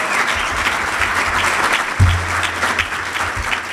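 Continuous applause from a studio audience, dense and steady throughout, with a brief low thump partway in and faint crowd noise mixed under the clapping.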